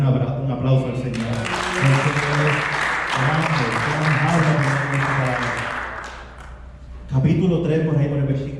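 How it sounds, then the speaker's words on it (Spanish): Church congregation claps in praise of the Lord during a Spanish-language service, loud dense applause rising over sustained music and voices, then dropping away as the music continues alone. "Dar un aplauso al Señor."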